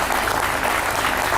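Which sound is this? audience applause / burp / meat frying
audience applause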